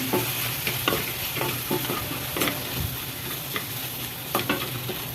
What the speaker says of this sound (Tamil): இது நல்லா வதக்கிடுங்க